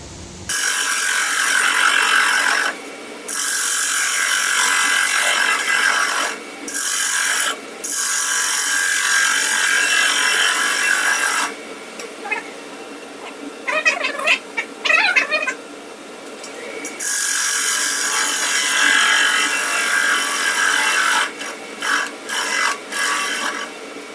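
Wood being turned on a lathe in a community college fab lab while a blank is flattened with the tool rest repositioned, heard as loud, sustained cutting bursts broken by short pauses.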